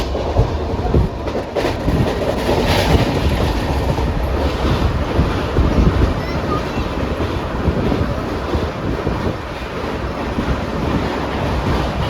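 Inside a passenger car of a moving Indian express train, a loud continuous rumble and rushing roar carries on evenly without pause, with faint rattling through the steady wash of noise.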